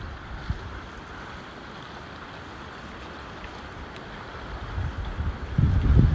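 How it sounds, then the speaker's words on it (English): Steady wind rushes and buffets outdoors in woodland, with gusts hitting the microphone harder toward the end. "I do hope you can hear me above the wind here. It really is quite blustery."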